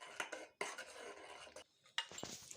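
Custard semiya is stirred in a pot, a spoon scraping and clinking against the metal in quick irregular bursts with brief pauses, close and fairly quiet.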